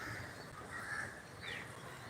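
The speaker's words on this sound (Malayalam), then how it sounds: "അത് കാക്ക ഇപ്പൊ അവിടെ തന്നെ ഉണ്ട്" A crow caws a couple of times at a distance, faint over a steady outdoor hiss.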